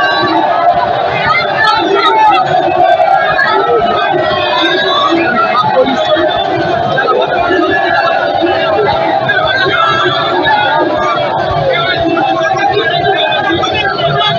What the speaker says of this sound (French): Dans le bain de foule caractérisé par une ambiance bon enfant